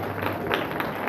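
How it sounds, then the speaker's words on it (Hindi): A church congregation at a live prayer service breaks into loud, sustained applause, a dense wash of many hands clapping at once that fills the room. "जोरदार ताली इस वचन के लिए।"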